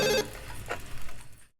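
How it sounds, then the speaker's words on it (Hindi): A landline telephone rings indoors in a home, a bright, loud burst of ringing at the start that cuts off and gives way to quieter room noise. "देखो जरा किसका फोन है।"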